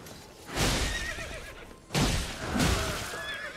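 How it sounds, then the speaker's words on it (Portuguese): Horse in the video game Elden Ring, ridden by an enemy in combat: two loud neighs and whinnies in quick succession, with a crashing impact and hoof sounds, close and clear with no talk. "O bom do inimigo de cavalo, você pode lutar com ele em cima do cavalo ou bater no cavalo."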